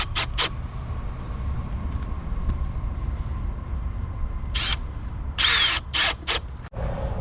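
A power drill drives a screw into a wooden planter box, whirring in several short, loud bursts near the end after a long stretch of steady background noise.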